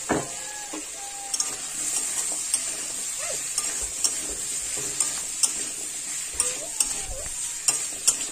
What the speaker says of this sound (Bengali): গাঁটি কচু আর আলুগুলো দিয়ে আমি ভালো করে একটু ভেজে নেব।